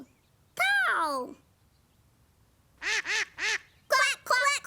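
A voice imitates a duck, quacking once in a long drawn call, then a run of three quick quacks, then a couple more, loud and close against a quiet background.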